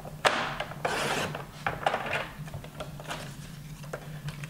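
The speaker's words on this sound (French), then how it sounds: "je prends une feuille A4 que je coupe à 18 cm dans ce sens." A4 sheet of paper being cut to size for a handmade album, heard as a series of short, close rasping strokes and scraping rubs, quiet and irregular over a faint steady hum.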